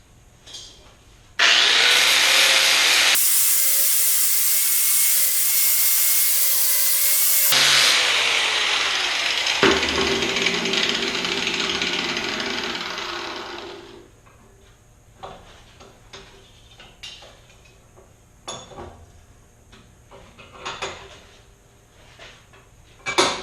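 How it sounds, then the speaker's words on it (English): Angle grinder fitted with a flap wheel grinding forged metal for a small oak branch with acorns, a loud sustained whining grind for about twelve seconds, then winding down to scattered clicks and light handling noises. "So I have another grinder with a flap wheel on it."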